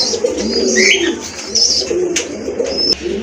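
Pigeons at a pigeon sale in Gazipur, Bangladesh, including a running pair, coo softly and steadily over a busy background of other bird chirps and calls. No one speaks.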